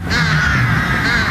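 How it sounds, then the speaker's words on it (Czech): Rooks in a flock caw harshly and continuously in a city park, overlapping calls loud and close throughout. "Do města se totiž vrátila ukřičená hejna havranů"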